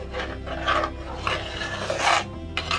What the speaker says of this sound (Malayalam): അപ്പോൾ അരപ്പ് ചേർത്തിട്ട് ഒന്ന് മിക്സ് ചെയ്ത് കൊടുക്കാം.